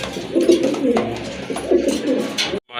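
Rajgolla pigeons coo in low, soft repeated phrases up close, several rolling calls over a couple of seconds with faint background noise.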